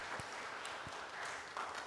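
Audience applause at a career expo, a soft, steady patter of clapping hands from a room of listeners, fairly faint and even across the short stretch.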